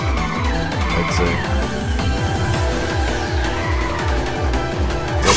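A car drifts in the Drift86 racing game, its engine revving in repeated rising sweeps while tires squeal steadily throughout, loud and continuous with no talking.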